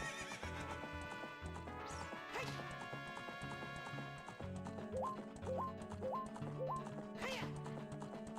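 In The Legend of Zelda: Ocarina of Time, a horse neighs and clip-clops through a galloping stretch set against bright, layered game music and a few crashing effects.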